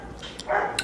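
A household dog barks in a short burst of two or three close, fairly loud yelps from inside a home, with no talking over it.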